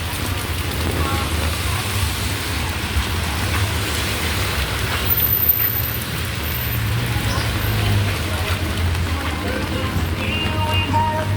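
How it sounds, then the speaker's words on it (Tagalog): Heavy rain falling outdoors during a rainy outing, a dense continuous hiss with scattered patters and drips, steady and fairly loud, with faint traffic rumble beneath. "Maulan ang pamamalingki namin."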